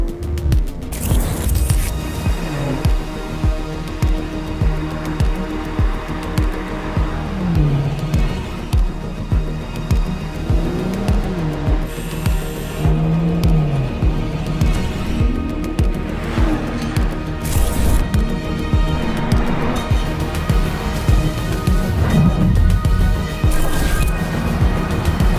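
A brand new 2022-2023 BMW 2 Series Coupe driving, with a steady engine note that rises and falls through gear changes and road noise throughout, loud and close, with no talk.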